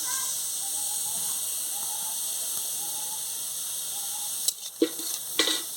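A soft, continuous sizzle of onions frying in a holed cooking pot, with a couple of clanks and stirring knocks near the end.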